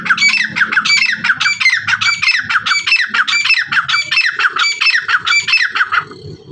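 Dakhni teetar (partridge) calling, a loud, close series of harsh repeated squawking notes in a steady rhythm that continues for about six seconds before stopping.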